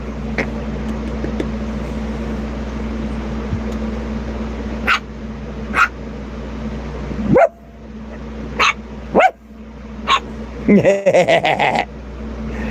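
A dog barks in short, sharp bursts at home, several spaced single barks followed by a quick cluster near the end, loud and close over a low steady background hum.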